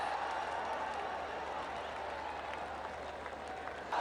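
A cricket stadium crowd applauds steadily for batsman Babar Azam as he nears a batting milestone in a night match, a dense, continuous wash of distant clapping and cheering that holds for the whole stretch.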